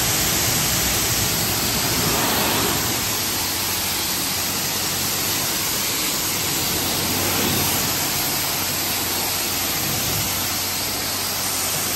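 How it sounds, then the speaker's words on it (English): A high-pressure rinse wand blasting water onto a TRX truck, producing a loud, continuous, even hiss of spray that holds steady for the whole stretch with only slight swells. "Where is the high pressure rinse? Right here. Get that TRX clean."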